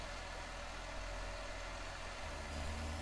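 A tractor engine in the farming game Farming Simulator 19 drones steadily at a low, even pitch, like a constant idle or slow drive, holding a quiet unbroken hum throughout with no talking.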